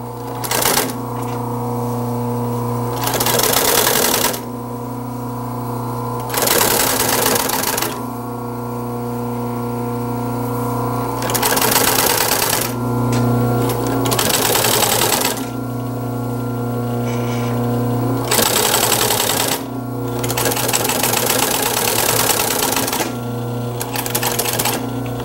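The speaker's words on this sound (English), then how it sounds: "I reset my machine to a large stitch size to sew the cording." A sewing machine stitching chair upholstery cording on a 1950s chair, set to a large stitch, runs in several loud bursts of rapid mechanical clatter separated by a steady motor hum.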